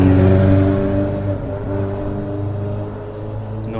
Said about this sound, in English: Noisy bike, innit, eh?